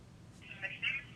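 A mobile phone gives a short, soft electronic alert of two quick tonal chimes, moderately faint against a quiet room background.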